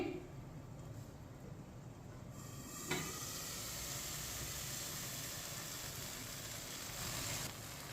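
Sweet vermicelli (seviyan) cooking in a pan on a stove, giving a steady low sizzle and bubbling that runs throughout with a brief clatter near the start.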